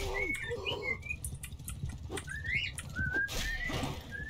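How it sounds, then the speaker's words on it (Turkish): A bird singing in the medieval game Mount and Blade II Bannerlord, with repeated rising and falling whistled phrases over a soft rustling background, fairly close and without talk. "Yani şarkı söylüyor kuş."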